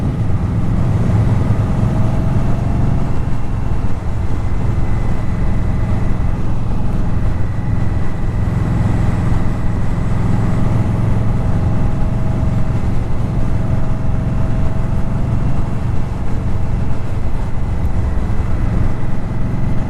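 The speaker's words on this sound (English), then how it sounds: "I like to hear the exhaust over the engine mechanical noises" A 2018 Indian Scout Bobber ABS motorcycle riding along, its exhaust drone and engine rumble steady and loud throughout, with wind noise and no talking.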